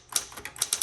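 A 1960s Coronet Automatic typewriter being typed on, a quick run of about seven sharp, close key strikes in an uneven rhythm.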